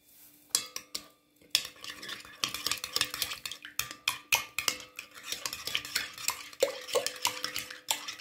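Yeast mixture for chicken börek dough being stirred in a bowl, with a steady run of close spoon scrapes and clinks against the bowl's sides, fairly quiet and with no one talking.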